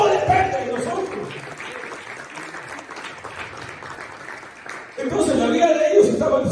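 Church congregation clapping at a Spanish-language sermon, a steady dense patter of hands for about five seconds, then louder, fuller clapping with voices mixed in near the end.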